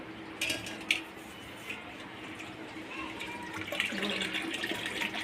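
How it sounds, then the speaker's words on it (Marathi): Water runs steadily from a tap, a continuous splashing flow with a few brief clatters and muffled voices in the background. "शुभांगी पाणी किती दिवसानं आलं खरं सांग"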